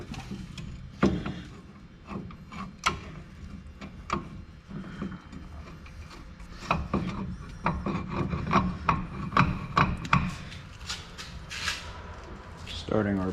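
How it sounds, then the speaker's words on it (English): New brake caliper on a 2006-2012 Ford Ranger sliding into place, with repeated metallic scraping and rubbing of parts against each other, close and moderately loud, scattered clicks and knocks throughout. "Got our new caliper. Go ahead and slide this into place."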